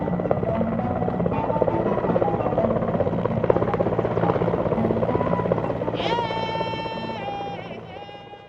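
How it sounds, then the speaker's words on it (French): A helicopter drones steadily nearby with a throbbing rotor chop and high turbine whine that rises in pitch near the end. "soignés sur place, avant d'être évacués par hélicoptère"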